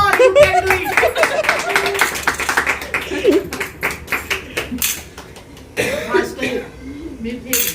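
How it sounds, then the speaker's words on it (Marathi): Women at a Haldi Kunku gathering during a Makar Sankranti game break into scattered hand claps, mixed with lively talk and laughter close by. "मग वाजवा टाळ्या"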